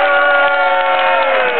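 A live crowd at a 2008 rock concert cheers and shouts in a dense, steady roar that holds loud and unbroken for under two seconds, with no distinct clapping standing out.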